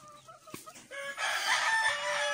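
A Sweater Boston gamecock rooster crows once at close range on a backyard farm, a loud drawn-out cock-a-doodle-doo following a few softer clucks.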